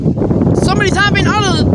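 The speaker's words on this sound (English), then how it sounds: "So windy here." Heavy wind buffeting the microphone with a low rumbling roar while a person speaks over it, outdoors by the railway at Walbridge Road.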